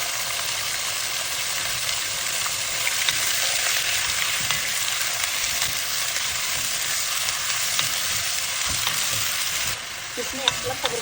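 Meat frying in hot oil for Samarkand-style wedding kabob, a steady, dense sizzle that runs close and loud throughout, dipping briefly near the end.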